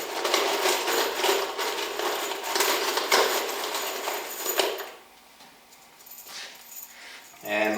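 A handful of 3-inch screws rattles and clinks as they are handled while a reloading bench is built, with sharp metallic jingles for several seconds, then quieter scattered taps and clicks near the end.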